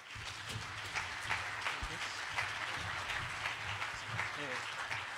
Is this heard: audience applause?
yes